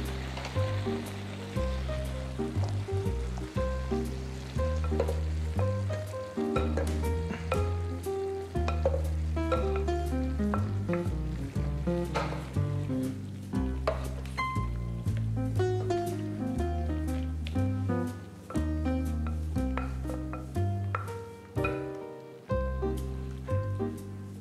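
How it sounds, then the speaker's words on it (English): Pasta is stirred into a thickened butternut squash and fire-roasted tomato sauce in a pan, a continuous wet scraping and sizzling that goes on for a long stretch with no talking. "And I just stir the pasta into the sauce and coat the pasta."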